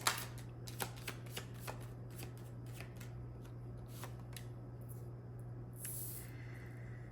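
Tarot cards being shuffled, a run of quick riffling bursts near the start followed by softer scattered shuffles and a brief swish, faint and close over a low steady hum, with no talking.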